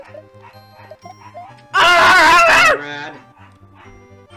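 Dogs barking in Super Demo World, a Mario romhack video game: a loud, dense burst of yelping barks lasting about a second, set against steady background game music, with a brief spoken word before it.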